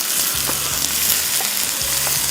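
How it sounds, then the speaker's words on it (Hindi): Large chicken pieces frying in a pan, a continuous loud crackling sizzle with faint scraping and stirring knocks underneath, no voices. "थोड़ा सा इसको फ्राई करेंगे"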